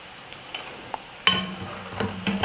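Pasta pieces deep-frying in hot oil until crisp, a soft continuous sizzle with a few clicks of a utensil, growing busier and louder toward the end.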